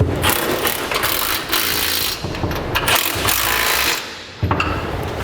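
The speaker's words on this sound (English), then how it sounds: "And then on these rear ones, I'll use the socket and a wrench." A 3/4 inch socket and wrench tighten bolts on a B&W fifth wheel trailer hitch under a 2002 Dodge Ram pickup, giving loud, busy metallic clicking and clanking in quick, uneven bursts with short pauses.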